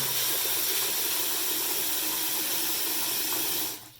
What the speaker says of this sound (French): Voilà l'eau qui coule au niveau du lave-main.